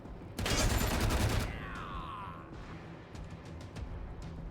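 Dense burst of automatic gunfire from a Wasteland 3 firefight, loud and rapid for about a second, then fading into quieter game ambience with a few faint later shots.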